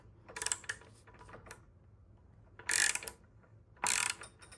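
Torque wrench tightening a bicycle crank arm to 45 Nm on a Zwift Ride frame, a few sharp ratcheting clicks in bursts, close and fairly loud, with soft handling noise between them and no talk.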